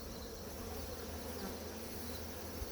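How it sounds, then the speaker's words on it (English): Honey bees buzz in a steady, dense drone around an open beehive, the sound close and continuous with no talk over it. "You got a bunch of bees on that corner there."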